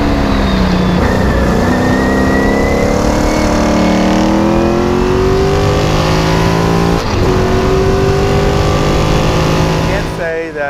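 A Lola T142 5-litre race car roars close and loud, its engine note climbing steadily as it pulls through the gears, with a brief dip at a gear change partway through before the pitch rises again.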